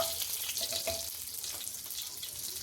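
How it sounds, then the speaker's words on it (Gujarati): Bay leaves and green chillies sizzle steadily in hot oil left from frying paneer, a close, continuous crackling hiss with small pops throughout, no voices. "આપણે જે પનીર તળ્યું હતું એ જ તેલમાં આપણે આ રીતે તેજ પત્તા નાખી દઈશું, મરચાં નાખી દઈશું"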